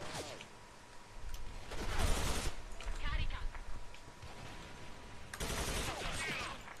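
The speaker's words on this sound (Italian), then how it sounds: "Ma perché spari a me che hai uno che ti sta sparando da dietro?" Gunfire in the online shooter Special Force 2, bursts of automatic shots coming in clustered volleys across the clip while a player talks over the action.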